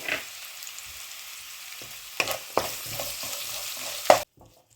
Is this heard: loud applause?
no